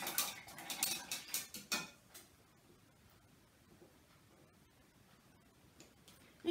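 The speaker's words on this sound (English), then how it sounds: "I'm going to rinse this brush off" A paintbrush rinsed in a water jar: a quick burst of clinking, tapping knocks in the first two seconds, then near quiet with one more knock at the end.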